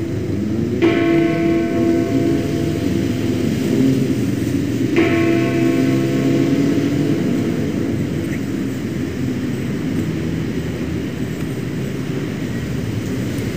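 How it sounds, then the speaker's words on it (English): Two deep strikes of the Big Ben clock bell ring out a few seconds apart, each with a long humming decay, over steady city traffic rumble. "the Big Ben chimes have begun"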